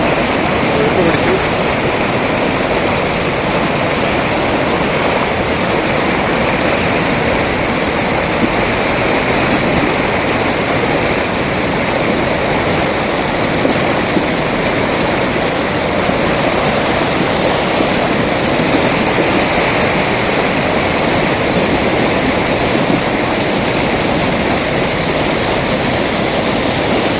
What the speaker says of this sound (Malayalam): താഴേക്ക് ഒഴുകി പോകുന്ന ഭാഗങ്ങളാണ് കാണുന്നത്.